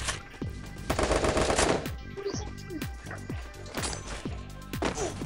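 Rapid gunfire bursts from a grenade pistol and other weapons in the mobile game Free Fire team deathmatch, with sharp repeated shots and blasts, fairly close and loud, with some faint background voices.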